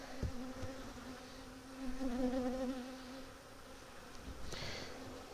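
Honey bees buzz steadily at close range during a hive inspection, a dense insect drone that swells briefly louder midway, with a faint clack of frames and no talking.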